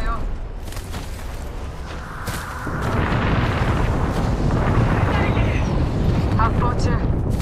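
Rapid bursts of gunfire and booming blasts in Apex Legends crackle continuously, loud and close, building into a dense barrage.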